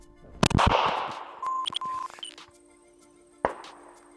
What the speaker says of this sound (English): here we got the 12 gauge and it's pointed in your general direction